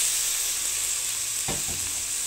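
Three chopped tomatoes sizzle and sauté in a pan over fried ginger and garlic for a bachelor-style chicken curry, with a steady close frying hiss and a brief stirring scrape partway through.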